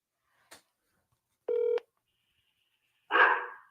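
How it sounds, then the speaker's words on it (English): Phone call placed to a Google Voice number: a short click, then a brief touch-tone dialing beep, and later a short burst of ringing or line noise, each isolated in silence. "I'm going to try for my Google Voice number to call it."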